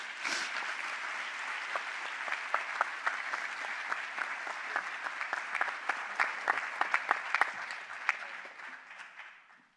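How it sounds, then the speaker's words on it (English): Dense, steady audience applause at an everyday-mysticism conversation event with Br. David and friends, a close crowd clapping for the full stretch with individual sharp claps standing out, then fading slightly toward the end. "can we please give a round of applause for all of our friends"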